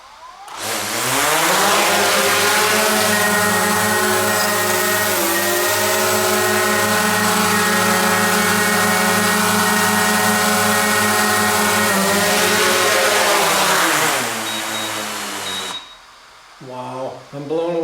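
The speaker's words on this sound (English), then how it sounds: "I'm just going to see what happens if I try to just fire it up, just to make sure that it's working" A camera drone's motors spin up after a crash, rising into a loud, steady, high-pitched propeller whine that holds for about twelve seconds, then winds down and stops, followed by a brief voice.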